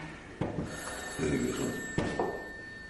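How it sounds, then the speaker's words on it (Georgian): An old-style telephone bell rings indoors in a house, sounding twice in short bursts at moderate loudness with faint background noise. "ამ ტელეფონს ხო არავინ არ აიღებს ამ სახში გამოკლებული ზაირა"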